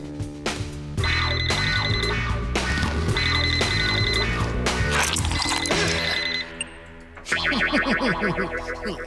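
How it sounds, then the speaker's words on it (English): A cell phone rings inside a school backpack with a loud, distorted electronic ringtone that repeats a bright melodic figure in bursts over about nine seconds and changes pattern near the end. "I assume this is your backpack that's ringing, Fire."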